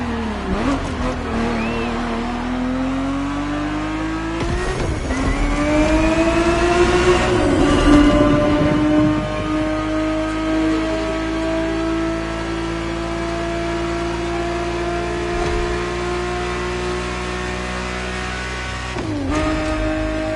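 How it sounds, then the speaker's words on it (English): A 1970s Ferrari 365 GTB4 engine revs hard in a racing game, rising through the gears with loud, close, harmonic-rich sweeps, brief dips at shift points, and a strong sustained drone between. "The Ferrari 365 GTB4 is the perfect vehicle for you to experience Ferrari racing as it felt back in the 70s"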